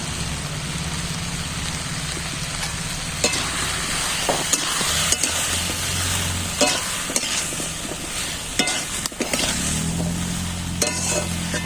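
Vegetable stalks fry with mustard-poppy paste and chili, giving a loud, continuous sizzle under a low hum, with repeated scraping stirs and clacks of a spoon against the pan.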